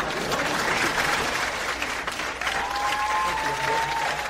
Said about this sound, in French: nous avons préparé des rires enregistrés, une version simple et une version avec applaudissements